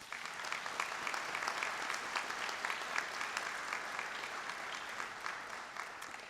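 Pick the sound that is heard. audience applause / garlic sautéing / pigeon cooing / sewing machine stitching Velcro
audience applause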